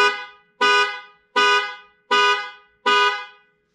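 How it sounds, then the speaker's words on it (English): A 2018-2020 Ford F-150 horn set off by the panic alarm, sounding five loud, evenly spaced honks, each blaring for about half a second with a short gap between. "let's put on this panic alarm and see how it sounds"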